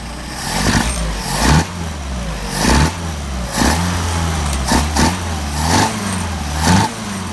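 A car engine fitted with Solex 44PHH carburetors revs up repeatedly in short, loud bursts, each throttle blip rising and falling back toward idle in a steady rhythm, close and alone.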